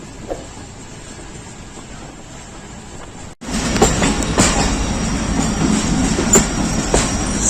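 The Millat Express passenger train runs on its rails. A quiet hum gives way after a brief dropout to a loud, close rolling rumble with wheel clatter and rattling carriages.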